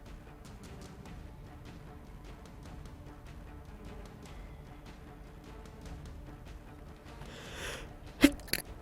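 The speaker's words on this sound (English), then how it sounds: "I sneezed." A single sharp sneeze from someone playing Darkest Dungeon, bursting out briefly near the end over a busy bed of game music and effects.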